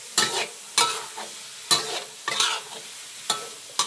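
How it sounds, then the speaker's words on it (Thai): Crickets deep-fry in oil while being stirred, giving loud, close sizzling bursts that rise and fade in a steady rhythm of about one every half second to second. "ยายน้อยกำลังทอดอยู่ค่ะ"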